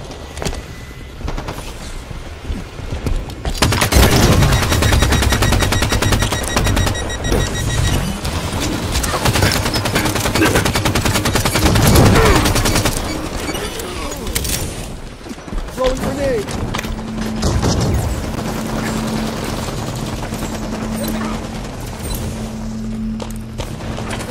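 Weapon fire from a Halo 5: Guardians arena multiplayer match on the Coliseum map, a dense stretch of rapid shots and booms under game voice callouts and mechanical sound effects.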